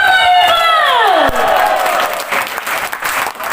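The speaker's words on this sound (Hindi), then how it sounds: "जोरदार तालियां और हूटिंग भेज देना स्टेज पर" A large audience at a company anniversary event bursts into loud applause and hooting, opening with a rising whoop that swoops down, then dense clapping and cheering that carries on to the end.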